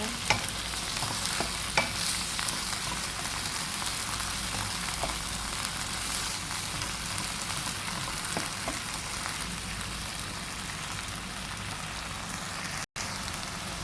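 Minced pork with kale and fermented soybean paste stir-fries in a pan, a steady close sizzle and fry with occasional sharp spatula scrapes and ticks throughout, no talking.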